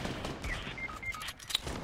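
Video game gunfire crackles in a rapid, dense burst of overlapping shots, close and fairly loud against a noisy backdrop, with no voices.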